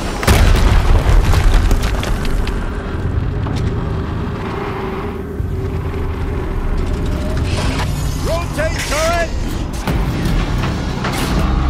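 In the video game Horizon Zero Dawn on PS5, a loud explosion booms at the start and settles into a long, rumbling roar, with clanking mechanical sounds near the end and no voices.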